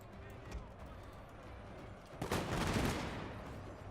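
Cannon and musket fire roar in a Shogun 2 Total War battle, a dull rumble of distant shots that swells into a dense, loud volley partway through, with no talk over it.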